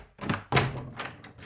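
A home's front door being opened, with a short series of close, dull clunks and thuds from the latch and door, one sharper knock standing out, and no voices.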